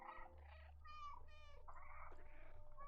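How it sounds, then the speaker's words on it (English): A cat meows repeatedly in the video game Stray: several clear, tonal meows in quick succession over a low, steady game ambience. "with the delay with the cat meow, it kind of sounds like I have like 2 or 3 cats here"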